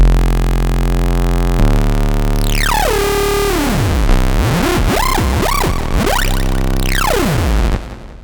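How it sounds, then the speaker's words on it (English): A free software synth is pushed through heavy gain-stage distortion, first as stepped buzzing tones, then wild sweeping and wobbling pitch dives and rises in a loud, gritty, crazy sequence, with no voice. "you also have distortion here on the gain stage. It offers 3 types and it can get very crazy."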